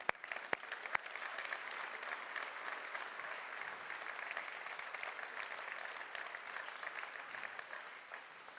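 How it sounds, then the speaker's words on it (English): An audience at a startup Demo Day in Turin applauds steadily for several seconds, a dense wash of clapping heard from a distance. "And last big applause for our 12 amazing companies"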